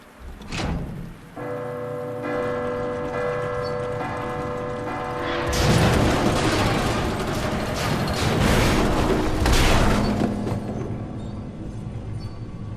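Bell tower bells ringing in Resident Evil 2 Remake, a sustained pealing bell tone that swells into a loud, dense wash of clanging and rumbling, heard alone without talk.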